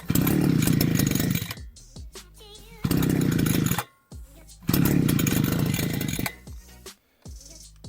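Petrol grass trimmer engine running with choke closed and throttle fixed to warm up, loud buzzing bursts of a few seconds each dropping to a rough uneven idle between, close by, no talk.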